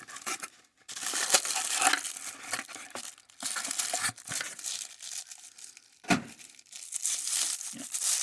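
Packaging paper being torn and crumpled from the box of a GameStop exclusive Gaming Greats Republic Commando action figure, with close, loud crinkling bursts broken by short pauses.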